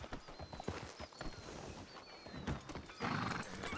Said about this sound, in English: Whose horse is this?